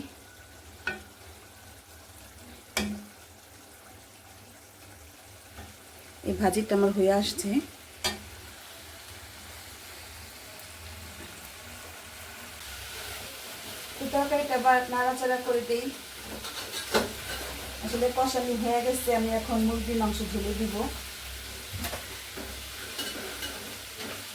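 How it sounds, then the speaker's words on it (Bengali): Sweet pumpkin and potato bhaji frying in a pan gives a steady, soft sizzle with occasional stirring clatter, while a voice talks over it at intervals. "আজকে আমি মিষ্টি কুমড়া ভাজি করতেছি আসলে মিষ্টি কুমড়া অল্প ছিল তাই সাথে আমি আলু দিছি"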